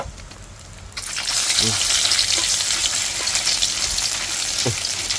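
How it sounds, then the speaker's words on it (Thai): Red curry paste stir-frying in hot lard and oil: a steady, loud sizzle surges in after a second and keeps hissing, with brief low voice sounds. "ผัดพริกแกงให้หอมก่อนไม่รู้พริกแกงอะไรอยู่ในตู้"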